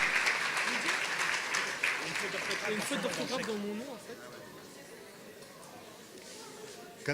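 A crowd at a chemistry olympiad awards event applauds Alain from Geneva, a dense burst of clapping that fades after a few seconds into murmuring voices and room chatter.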